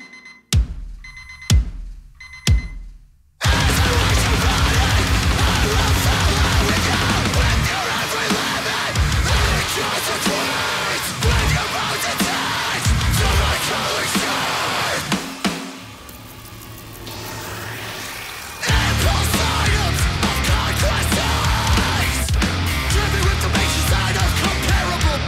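Loud, dense heavy metal from a single opens with a few sharp isolated hits, then a full distorted band crashes in and plays continuously, thinning briefly before returning at full force.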